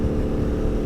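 A KTM motorcycle fitted with a new Shorty Aero GP2 aftermarket exhaust rumbles with a steady, loud low-pitched engine drone, close by and without voices.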